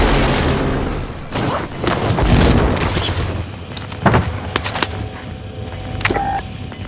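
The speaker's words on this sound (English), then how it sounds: "Allied precision airstrike. I'm just doing airstrikes." Heavy booming explosions from an allied precision airstrike in a first-person shooter game roll in one after another, with deep rumbling blasts and sharper cracks spread across several seconds.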